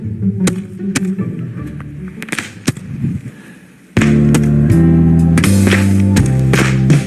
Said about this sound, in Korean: 마지막 밤은 불꽃놀이를 태워야지.